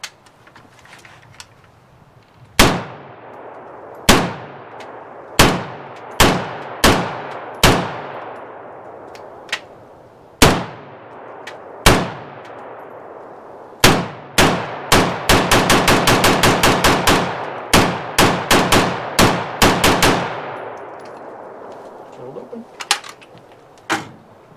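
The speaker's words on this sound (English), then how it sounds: "And now Fox with the Gewehr 36." A Heckler & Koch G36 rifle fires loud, sharp shots outdoors, first single shots at steady intervals, then a rapid automatic burst, then more spaced shots, each with a ringing decay.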